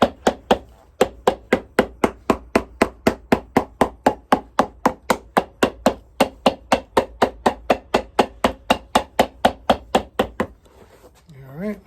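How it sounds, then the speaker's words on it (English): Hammering on an Allen Edmonds Hastings #182 shoe during custom recrafting: a close, loud, steady run of about forty sharp evenly spaced strikes that stops just before the end. "now we get to hammer time"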